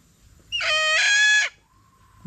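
A single rooster crows once, loud and close, a drawn-out call lasting about a second in a backyard where chicks are kept, followed by quiet.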